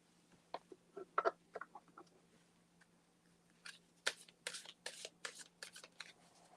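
Cards shuffled close up in quiet surroundings, brief crisp riffles and taps at first, then a denser run of rapid shuffling snaps.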